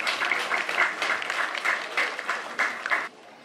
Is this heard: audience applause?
yes